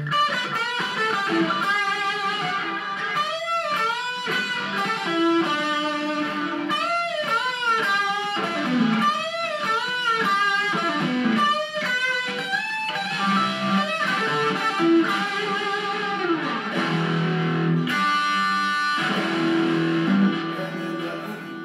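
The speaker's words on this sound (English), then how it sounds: "You can get a little echo." An electric guitar runs through a multi-effects unit with echo, playing a continuous melodic line of sustained, bending notes whose repeats trail behind. It is loud and steady for over twenty seconds, with no talking.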